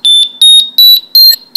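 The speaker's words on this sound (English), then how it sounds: "at a certain point you'll hear a special beep happen." A Metroboard Mini RC remote emits a series of loud, shrill electronic beeps during battery calibration, five evenly spaced pulses in quick succession with no talk.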